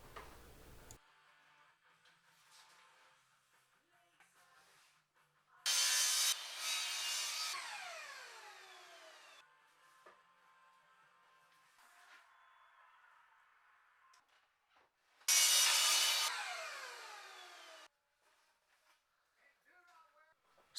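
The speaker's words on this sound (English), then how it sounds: "Now to cut this 4-inch PVC pipe, I found the best way to do it was to use my miter saw" A 10-inch miter saw cutting 4-inch PVC pipe: two loud, separate cuts, each about two seconds long, with the blade spinning down after each one, and a quiet workshop between them.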